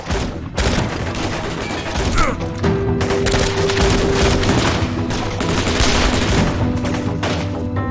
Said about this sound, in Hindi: आखिरी गोली तक चलाते रहो